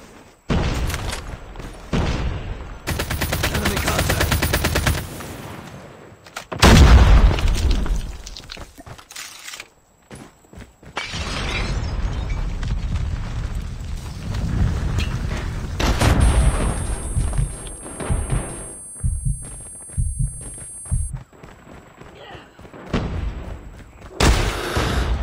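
A frag grenade explosion and gunfire in a shooter video game, with loud booms, bursts of rapid shots and blasts separated by brief quiet gaps, with game voice callouts mixed in.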